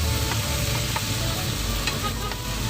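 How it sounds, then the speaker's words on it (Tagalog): Tomatoes sauté in a hot pan, a continuous close sizzle broken by occasional scraping stirs of a utensil, with no talking. "Kaya medyo matagal-tagal itong gisahin."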